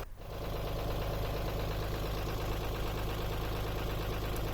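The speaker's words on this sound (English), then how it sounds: "Now with the engine running, just checking it all goes into gear and that the throttle works." The engine of a narrowboat being renovated runs at a steady idle close by, a continuous loud chugging drone with no voices.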